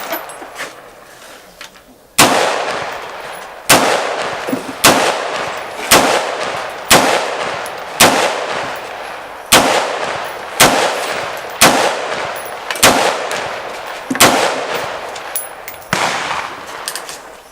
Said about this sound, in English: let's put some rounds through it and see what our impression is of an entry level AR that you didn't build